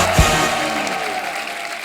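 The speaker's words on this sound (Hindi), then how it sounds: "जोरदार तालियां हो जाए मधुर सर के लिए।" A studio audience on a Hindi comedy talk show claps in a dense, loud burst that carries through the short clip, welcoming a guest.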